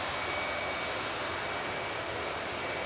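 A Jet2 aircraft, a 30-year-old jet departing Manchester Airport for Palma de Mallorca, produces a steady, fairly faint broadband engine roar from a distance, continuous and without voices.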